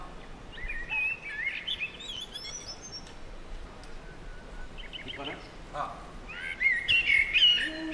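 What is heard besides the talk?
birds chirping in a tree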